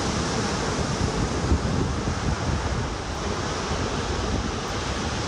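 Steady ocean surf rolls in a continuous broadband wash, with some wind noise on the microphone and no voices.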